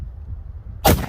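A single loud Mosin Nagant rifle shot hitting a pumpkin outdoors, a sharp crack near the end after a quiet low rumble.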